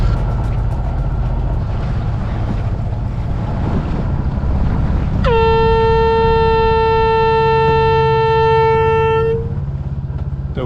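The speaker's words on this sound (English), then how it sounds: "so I've been sounding the foghorn every 2 minutes" A sailboat's foghorn sounds in fog on an Irish Sea crossing between Holyhead and Howth. It gives one loud, steady blast of about four seconds over constant wind and water noise.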